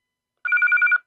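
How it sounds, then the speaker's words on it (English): A Belfone BF-OG200 FRS radio sends out its alarm tone, a short burst of rapid electronic beeps lasting about half a second, close, loud and alone after silence. "if you want to transmit an alarm tone or notification tone"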